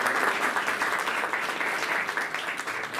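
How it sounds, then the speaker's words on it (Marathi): Audience at a public event breaking into loud sustained applause, a dense even wash of many hands clapping for a few seconds with no talk over it. "खऱ्या अर्थाने त्यांच्यासाठी एकदा जोरदार सर्वांनी टाळ्या."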